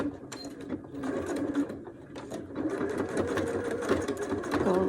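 A sewing machine stitches up the sides of a zipper pocket, running in a close, steady rapid chatter of needle strokes with slight speed changes and no pauses.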